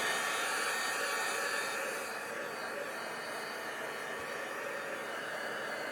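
A hair dryer blows steadily and close to dry wet ink on a craft stamping print, a continuous broadband whoosh that eases slightly in force partway through, with no talking.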